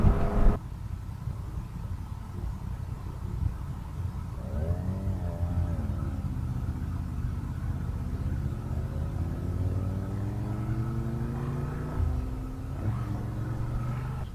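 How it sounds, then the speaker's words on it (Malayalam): A BMW six-cylinder touring motorcycle engine runs for about fourteen seconds, a steady low rumble with a few revs rising and falling in pitch, at moderate level and without speech. "6 സിലിണ്ടർ എൻജിൻ. സൗണ്ട് ഭയങ്കര രസമാണ്."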